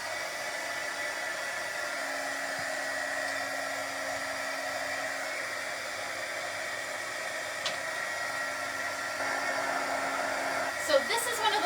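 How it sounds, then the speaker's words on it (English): A hair dryer blows steadily on a chalk-painted silver bowl decorated with decoupaged napkins, a loud continuous whir running unbroken with a few small clicks near the end. "now I'm going to hit it with the dryer"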